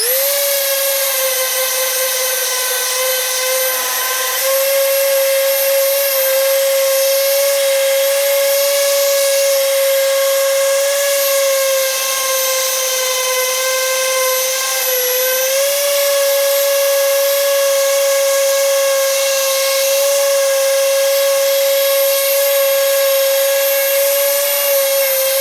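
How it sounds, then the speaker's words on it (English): A little Dewalt hand sander fitted with 150 grit sandpaper sands paint off wood, giving a loud, steady motor whine that runs unbroken, with only a slight dip partway through and no talking. "So I just got my little Dewalt hand sander, and I've got 150 grit sandpaper on here."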